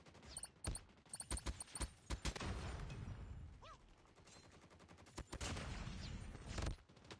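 AK rifle fire in Call of Duty Mobile, sharp rapid bursts of automatic shots at the start and again near the end, with scattered single cracks and game effects between them.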